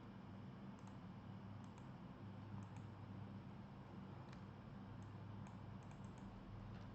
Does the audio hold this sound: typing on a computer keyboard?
yes